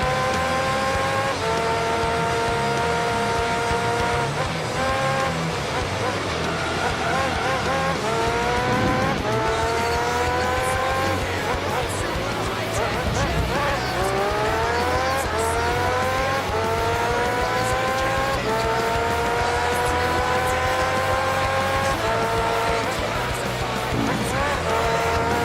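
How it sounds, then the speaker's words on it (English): Race car engine in Gran Turismo 3, loud continuous revving with repeated rising gear-change sweeps and tire squeal through corners, with people talking over it. "I'm just a guy driving a car around in Gran Turismo."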